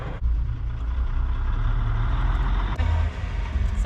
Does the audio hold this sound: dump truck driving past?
yes